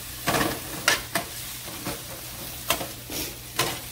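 A utensil stirs and scrapes browned bits off the bottom of a pan while broccoli chicken Alfredo cooks, giving about seven distinct scraping strokes at an irregular pace over a soft background sizzle, close and moderately loud.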